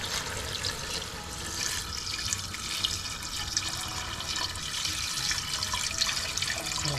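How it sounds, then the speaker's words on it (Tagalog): Water pours steadily into a cooking pot of beef pares, a constant splashing rush close by with small drips and gurgles, no voices. "lagyan din natin siya ng isang timbang tubig"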